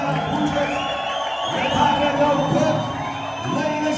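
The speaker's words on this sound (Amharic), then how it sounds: "እልልታ፣ ጭብጨባ፣ ፉጨት" A church congregation erupts in a sustained roar of ululation, clapping and whistling, with high trilling voices rising and falling over a dense crowd din.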